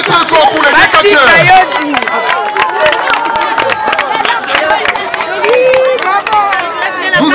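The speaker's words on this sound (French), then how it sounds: "Applaudissez très très fort pour les catcheurs." A lively crowd at a wrestling match claps and cheers, with a steady babble of voices and scattered sharp hand claps running throughout.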